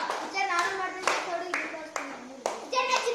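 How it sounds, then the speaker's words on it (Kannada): Several loud bursts of hand clapping in praise of a child, strong sharp onsets repeating about every half second, with a voice and other speech running over them close by. "ವೆರಿ ಗುಡ್ ಚಪ್ಪಾಳೆ ಹಾಕ್ರಿ"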